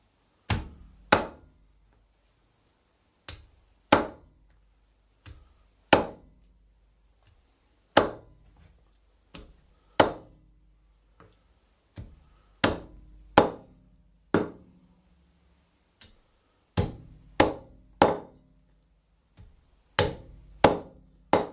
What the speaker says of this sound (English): just start chopping through them